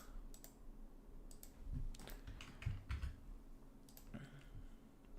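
Quick bursts of keystrokes clatter on a computer keyboard, close and fairly quiet, in short irregular clusters with brief pauses between.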